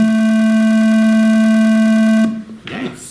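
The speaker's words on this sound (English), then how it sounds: "Yeah, it's sine wave." Sine wave test tone holding one steady pure pitch with faint harmonics for about two seconds, then cutting off abruptly, followed by a brief rustle and short murmur.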